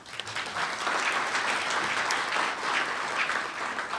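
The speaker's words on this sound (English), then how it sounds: "So a round of applause for Tom." An audience at an innovation showcase award presentation claps steadily for several seconds, a dense, even wash of applause from a room full of people.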